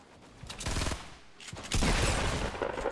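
Shotgun fire in the Fortnite Battle Royale video game, with several sharp blasts in quick bursts, loud and close, overlapping in a rapid exchange of shots.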